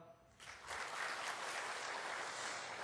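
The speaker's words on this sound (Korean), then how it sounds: "성도님께서는 뜨거운 박수로 이들을 격려해 주시길 바랍니다" A church congregation at a Sunday service gives scholarship students warm applause, the clapping swelling quickly into a dense, steady burst that fills the room and holds without talk.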